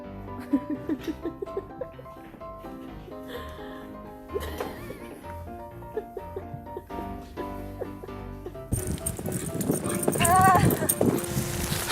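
A horse walks with steady, fairly close hoof clip-clops, while people talk and laugh alongside; near the end the scene shifts to a louder, busier mix.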